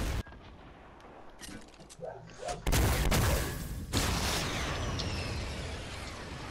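A rocket is fired at an enemy in a video game, and a loud blast and explosion cut in over scattered gunfire, followed by a sustained roar, while players talk under it.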